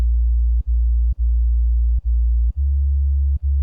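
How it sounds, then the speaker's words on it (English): A pure sine-wave sub-bass layer from a liquid drum and bass track, a deep steady hum that dips briefly at a few irregular points, plain and unaccompanied. "we've got this sub layer here, which is just a sine wave"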